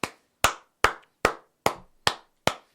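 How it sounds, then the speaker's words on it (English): One person claps seven sharp, loud, isolated times in an even rhythm about 0.4 seconds apart at the close of a comedy show, each clap ringing out in silence. "Jenny, I'll clap for you,"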